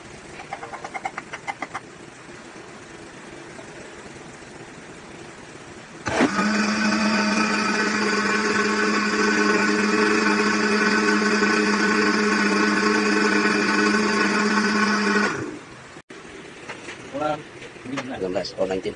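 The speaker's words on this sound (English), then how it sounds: "Mixing with blender." A blender whirs steadily for about nine seconds while mixing bile acid into shrimp feed, with voices and background noise before and after the run.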